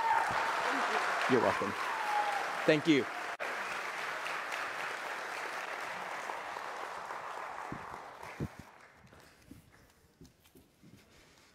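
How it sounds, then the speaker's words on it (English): An audience in a church gives a sustained round of applause that gradually thins out and fades, with a few voices speaking briefly over the clapping and again near the end. "let's give her a round of applause"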